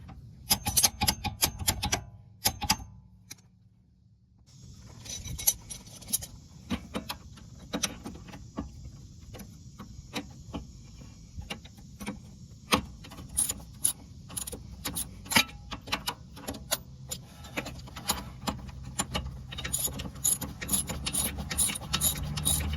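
Breaker bar with an 18 mm socket working loose a stabilizer link nut on a Nissan, a run of sharp metallic ratchet clicks in bursts with a brief pause early on, close and dry, no voices.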